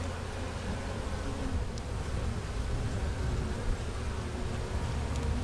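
Honeybees buzz steadily at an open hive in a dense, continuous drone, close and even throughout.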